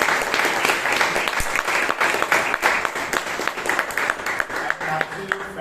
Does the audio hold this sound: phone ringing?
no